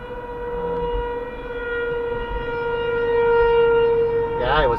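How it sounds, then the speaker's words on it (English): A civil defense siren sounding its 12 noon signal, heard from a vehicle driving a Wisconsin highway, a steady sustained wail held throughout with road noise underneath. "That's the 12 noon siren."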